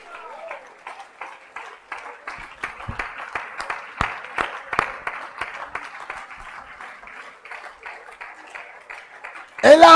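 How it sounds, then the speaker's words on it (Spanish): A church congregation claps during a Spanish-language service, scattered hand claps of moderate loudness mixed with voices calling out, and a sudden loud burst right at the end. "Un enamorado de Jesús que le dé un aplauso esta mañana."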